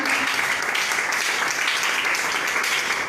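A church congregation at an evening seminar on intercession bursts into applause, a dense, sustained wash of many hands clapping together at steady loudness with no pauses.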